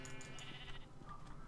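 Sheep bleating in a video game, heard as a short, faint cry over a steady ambient background with no talking.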